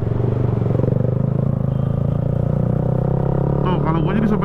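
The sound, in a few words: Yamaha R15 V3 motorcycle riding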